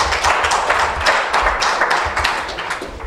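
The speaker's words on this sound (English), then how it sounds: "If we could just clap for Gor Mahia" An audience applauds at a Gor Mahia football club launch event, a steady dense spatter of many hands clapping close by, filling a few seconds.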